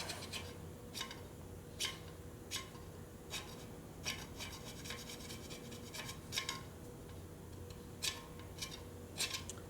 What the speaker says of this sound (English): scrape off all these surfaces